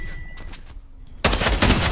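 Sniper gunfire in a video game, a sudden loud blast that cuts in after quieter game sounds and fades into a brief noisy tail.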